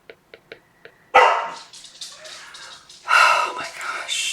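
A pet dog barks at a squirrel, several loud close barks in bursts after a few faint clicks, with whispered or hushed speech mixed in.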